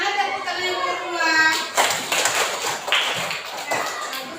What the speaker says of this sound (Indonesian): Mana tepuk tangan yang kedua?